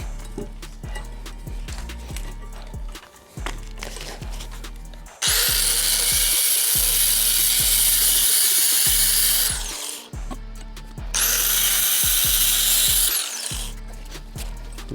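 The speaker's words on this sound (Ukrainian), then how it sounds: "Зараз попрацюємо трошки болгаркою, відміряємо, відрізаємо" An angle grinder whines steadily as it cuts metal pipes, rising into two long, harsh, screeching cutting passes with brief pauses between.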